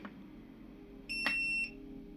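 One electronic beep sounds close by from a Segway Cube BT-1000 portable power station, a steady high tone lasting about half a second, with a faint hum underneath.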